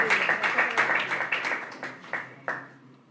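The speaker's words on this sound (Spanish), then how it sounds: "Un aplauso para estas mujeres que luchan por la libertad." A small crowd at a gathering demanding justice for a detained man applauds women campaigning for freedom; scattered claps rise and fade in uneven bursts before dying away.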